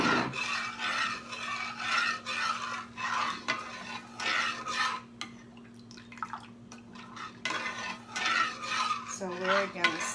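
A spoon scrapes and stirs a mixture for hot tamales in a bowl, repeated close rasping strokes in a steady rhythm with a brief clink and a pause partway through.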